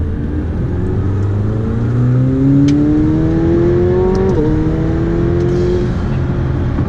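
A McLaren 720S sports car engine accelerates hard, its loud, close roar climbing steadily in pitch, dipping briefly at a quick gear change, then pulling up again.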